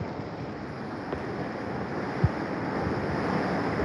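Hurricane-force wind gusts roar through Santa Cruz, Jamaica, a steady, dense rush like surf with heavy buffeting on the microphone and a brief thump midway, no voices heard.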